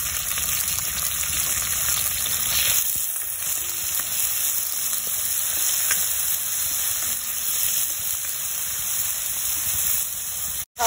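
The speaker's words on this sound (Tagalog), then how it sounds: "Habang ginigisa po natin ng kamatis, lagyan po natin ng konting patis para mas blend." Tomatoes sautéing with garlic and onion in a pan as the base for spicy squid, a loud steady sizzle and hiss running throughout with faint stirring and a sharp knock at the very end.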